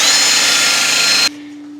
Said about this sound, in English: You'll have to drill this rivet out.